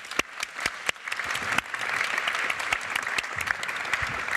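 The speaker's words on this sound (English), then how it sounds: "May we please give the panel now a very warm round of applause." A conference audience applauds a panel on urban transport planning, starting with a few sharp, separate claps and swelling into steady, moderately close applause.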